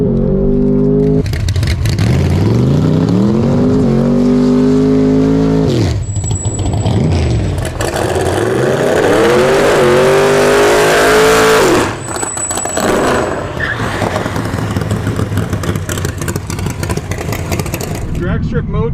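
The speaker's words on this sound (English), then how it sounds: "All right, we got a grudge lined up with this big tire Thunderbird." A big-tire Thunderbird lines up against a Tesla Model S Plaid at a drag strip, with a loud, close engine revving and climbing in pitch through repeated surges, plus high whine and roaring passes throughout.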